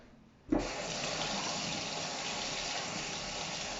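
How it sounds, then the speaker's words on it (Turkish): Tap water runs steadily into a kitchen sink as apples, oranges and other fruit are rinsed under it, starting abruptly with a splash and continuing as a close, even gush. "Bunları bir yıkayayım."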